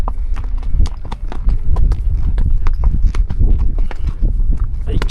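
A horse's hooves clip-clop steadily on a mountain trail at about 2000 m altitude in the Caucasus of Georgia, with a ridden horse climbing. The irregular hoof strikes are close and fairly loud throughout.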